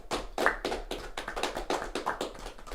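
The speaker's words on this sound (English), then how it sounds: "So let's give her a round of applause." A few people clap in a small podcast studio, sparse uneven hand claps with sharp taps close to the mics and no talking.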